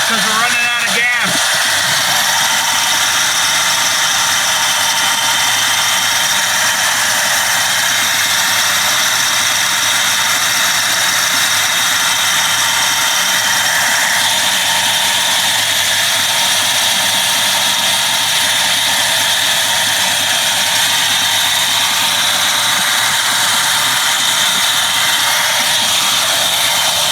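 A 1984 Ford LTD Crown Victoria engine idles steadily on its own for the whole stretch, a constant mid-level drone with a brief rough catch near the start, and no other sounds stand out.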